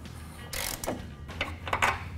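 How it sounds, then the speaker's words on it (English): A 21 mm socket wrench ratchets on a Jeep Wrangler JK track bar bolt, giving short, close metallic bursts of clicking that come in quick uneven strokes, with no talking. "Use a 21 millimeter socket and wrench to remove the bolt."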